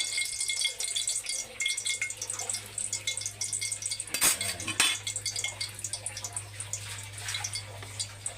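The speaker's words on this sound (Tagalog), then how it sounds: "Haluin din natin." Utensil stirring food in a cooking pot on the stove, a steady scraping and clinking rattle with a low burner hum beneath, interrupted by two brief louder knocks against the pot partway through.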